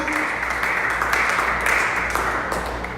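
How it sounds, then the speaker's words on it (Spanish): Church congregation applauding throughout during a worship service, a steady dense wash of clapping at moderate loudness with no clear breaks. "Aplauda al Rey, por favor."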